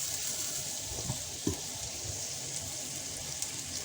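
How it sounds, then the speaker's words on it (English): Salted onion sautés in a pan for calabaza soup, a close, continuous crackling sizzle with a few soft clinks and stirring scrapes. "Saute this onion for like a minute until it's translucent"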